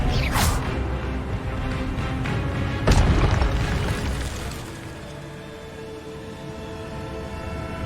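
An Expelliarmus spell is cast in the Hogwarts Legacy video game, two sharp whooshing bursts with a heavy, rumbling magical impact and mechanical clatter, fading into a low lingering hum.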